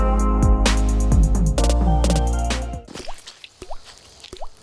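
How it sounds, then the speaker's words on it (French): Water drips from a tiny tap in a homemade miniature kitchen, a string of small, sharp plops at irregular intervals, loud and close, then softer drips against quiet. "ça fait vraiment du goutte à goutte"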